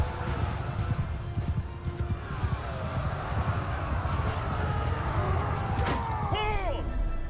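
In the Bannerlord video game, horses gallop in a rapid, dense drumming of hooves amid battle noise, with shouting voices over it and a sharp whinny-like sweep near the end.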